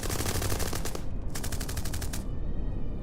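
Rapid bursts of machine gun fire, loud and close, rattling in two dense volleys separated by a brief gap, with a rumbling tail after the second burst.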